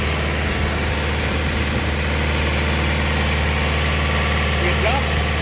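An Olin 575 concrete pump's engine drones loud and steady while the pump works, a constant low mechanical hum and vibration filling the whole stretch.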